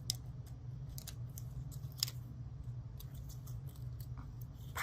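Scissors snipping tulle fabric for a gingerbread and snowman craft, a series of quiet, sharp irregular cuts over a low steady hum, close and fairly faint.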